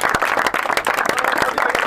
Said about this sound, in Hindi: नेक्स्ट है शाहरुख खान के लिए तालियां